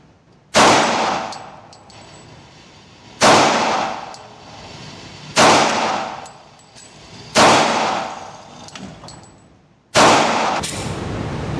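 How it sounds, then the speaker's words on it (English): Five loud, separate pistol shots from a Springfield Armory XDs .45 with a 3.3-inch barrel, spaced about two seconds apart on an outdoor range, each ringing out with a long decay. "I'm going to shoot at the cross on to the right line"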